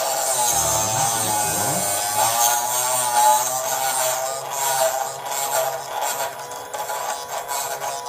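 A BICTOOL drill bit sharpener grinds a drill bit with a loud, continuous abrasive buzz and rasp, shifting slightly in pitch and intensity as the bit is turned against the wheel.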